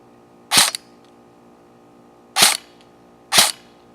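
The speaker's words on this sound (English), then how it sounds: "That's dry fire." A Krytac LVOA-C airsoft rifle with a high-capacity magazine dry fires three times, each a sharp, close mechanical snap standing alone with quiet gaps between.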